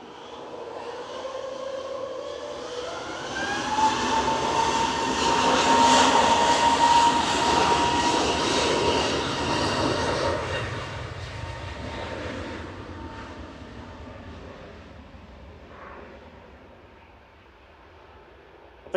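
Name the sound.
airplane taking off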